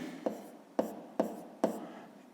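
A pen writes a measurement into a notebook during a fifth-grade geometry exercise. Four short, crisp strokes land at roughly even intervals, close and quiet, with no talking.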